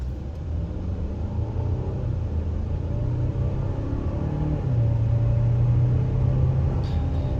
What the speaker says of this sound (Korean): 저속에서 엑셀 밟습니다.